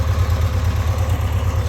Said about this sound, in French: Je vous laisse écouter le ralenti de la moto.